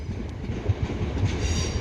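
A Class 377 electric train bound for London Victoria rolls past at a station near Crawley, Three Bridges or Balcombe, a steady close rumble with clattering wheels and a faint high whine toward the end.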